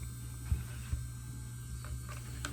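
A white electric nail drill (e-file) running at speed setting 15 gives a faint, steady mechanical hum, with a couple of soft clicks near the start and no talking.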